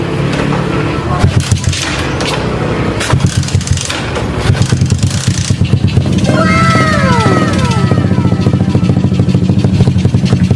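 A motorcycle engine, newly converted to a CDI ignition, starting up and running, close and loud with a rapid pulsing idle and a rising whine partway through.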